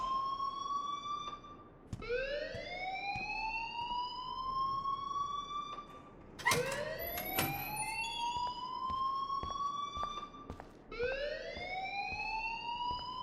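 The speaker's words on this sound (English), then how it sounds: "please turn off that alarm since that's your job" A rising wailing alarm in the video game Life is Strange, sweeping upward in pitch in repeated cycles every few seconds, loud and steady over a faint background.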